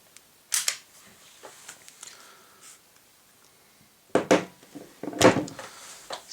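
Glock pistol slide sliding back onto the frame, a few sharp metallic clicks and scrapes, close and fairly loud, with a couple of quieter handling taps before.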